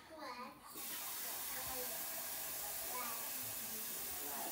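Cold tap water running steadily into a cooking pot in a home kitchen, a loud continuous hissing rush that starts abruptly after a brief quieter moment and keeps going.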